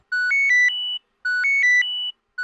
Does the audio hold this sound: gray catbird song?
no